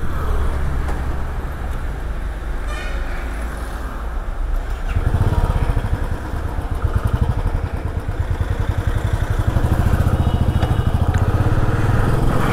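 A motorcycle engine idles and rumbles steadily in a long traffic jam on a road ride from Mukteshwar to Delhi, a loud continuous drone with faint surrounding traffic and no talk.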